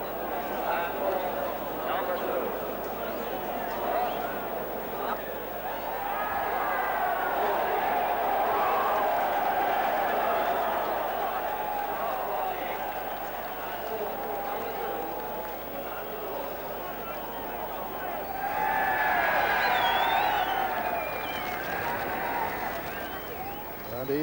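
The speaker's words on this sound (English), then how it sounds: "There's a tremendous cheer from the crowd as Desert Orchid is going to win it." A racecourse crowd roars in sustained cheering for Desert Orchid's Gold Cup win, a broad, dense wall of noise that swells again toward the end, with voices talking over it.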